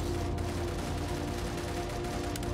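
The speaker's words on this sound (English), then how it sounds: "Oh, gunfire. We're at war, son." Distant gunfire in the video game STALCRAFT, a steady dense crackle of fusillade under a constant broadband noise bed, with no talk.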